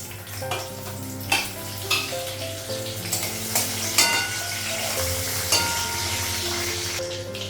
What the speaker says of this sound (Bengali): পাঁচ ফোড়ন দিব শুকনো লঙ্কা দিব